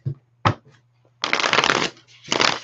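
Tarot cards being riffle-shuffled twice, a short flutter followed by two longer bursts of rapid clicking, close up.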